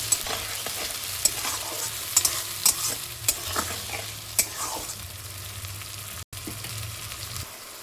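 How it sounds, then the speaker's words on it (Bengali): Spice paste for a bottle gourd curry sizzles and fries in a pan, a steady low hiss broken by repeated sharp scrapes and taps of a spatula stirring it, close and alone. "এই মশলাটাকে ভালো করে কিন্তু কষিয়ে নেবো"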